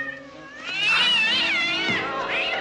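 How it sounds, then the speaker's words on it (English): A cat lets out a long, loud, wavering yowl that rises and falls in pitch, close and alone. "Holy cats! A cat!"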